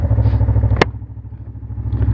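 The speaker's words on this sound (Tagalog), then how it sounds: "Ayan, na-start ko yung engine." A big bike's engine idles while warming up after a start, a close, steady low throbbing pulse with one sharp clack partway through, loud and without talking.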